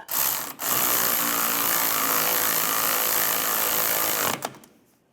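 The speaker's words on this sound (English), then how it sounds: "you can use an 18mm wrench to keep the stud from spinning. Use a 15mm socket." A power tool with a 15mm socket running on the sway bar link nut of a 2004-2010 BMW X3, a loud continuous buzzing whir lasting about four seconds, with brief stops at the start and end.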